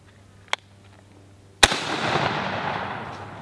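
A gun fires Hornady ammunition outdoors in hot Georgia weather: a small sharp crack, then a loud close shot about a second later whose boom rolls off in a long echoing tail.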